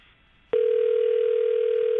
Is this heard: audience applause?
no